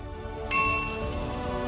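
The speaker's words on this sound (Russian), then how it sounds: "А вот в этот старинный колокольчик частенько звонили" An old hand bell is struck once and rings out clearly, its bright tone lingering and slowly fading.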